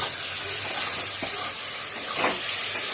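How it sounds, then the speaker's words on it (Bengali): Ginger paste sautés in a pan for chilli chicken, producing a steady hiss and sizzle with a few short stirring scrapes partway through. "এবারে আবার কষাতে থাকবে"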